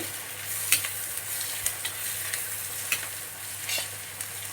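Small green chillies fry lightly in a pan for dal, with a continuous close sizzle and intermittent light spatula scrapes and taps, and no talking.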